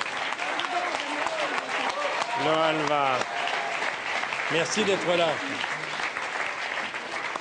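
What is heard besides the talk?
audience applauding the dancers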